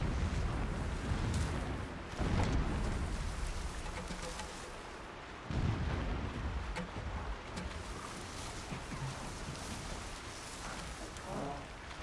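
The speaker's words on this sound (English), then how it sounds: "Some explosions going on." Rumbling booms and crackling bursts from explosions in the video game Horizon Zero Dawn, with two heavier blasts standing out amid continuous noisy roar.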